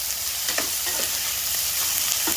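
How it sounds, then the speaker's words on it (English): Onions, green onions and bell peppers fry in a pan, with a steady close sizzle throughout and a few short scraping strokes as they are stirred. "Give this a quick stir."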